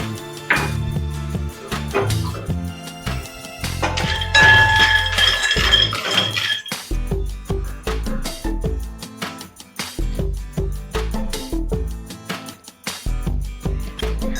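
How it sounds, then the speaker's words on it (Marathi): Peanuts are dry-roasted in a pan, and the nuts clink and rattle against the metal in repeated rhythmic bursts as they are stirred and tossed close by. "तर पहिल्यांदा शेंगदाणे भाजून घेऊया।"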